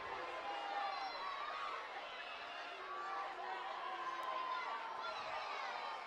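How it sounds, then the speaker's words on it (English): A stadium crowd at Rio Tinto Stadium during a soccer match murmurs and jeers in displeasure at a referee's no call, a diffuse roar beneath a commentator talking over it. "the crowd here at Rio Tinto Stadium not very happy about that no call"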